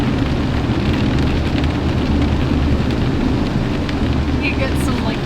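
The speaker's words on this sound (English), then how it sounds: "It's almost like a light hail." Light hail drumming on a car during a road trip, a dense, loud, continuous patter across the roof and windows with a low rumbling wash underneath, no voices.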